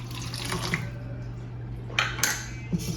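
A cup of water is poured into a mixing bowl holding whisked eggs and vegetable oil for chocolate cake batter. It makes a quiet, steady trickling splash with a few faint clinks of kitchenware.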